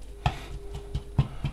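Minced beef browning in a pan is chopped with a utensil, giving five or so sharp, irregular knocks against the pan over a low sizzle, close and alone.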